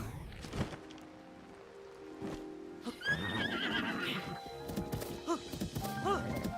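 Horse whinnying in The Legend of Zelda, with a neigh near the start and further neighs and game sounds later, close and fairly clear amid light background noise.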